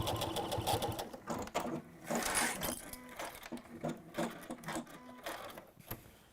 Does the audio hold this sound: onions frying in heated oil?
no